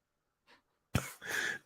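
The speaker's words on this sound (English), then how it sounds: "I'm getting a really tickly cough" One sharp, explosive cough from a person with a bad cold, close and loud. It comes after a soft breath, then trails into a rough, breathy second burst.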